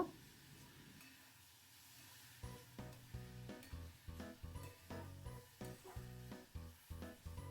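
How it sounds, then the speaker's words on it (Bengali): Grated coconut fries in runny date palm jaggery in a pan: a quiet hiss at first, then loud sizzling broken by rhythmic scraping stirs, close up and with no talk. "খেজুরের ঝোলা গুড় নিয়ে নিলাম, নিয়ে আর এটার মধ্যে নারকেলটা খুব সুন্দর করে ভাজা করে নেব।"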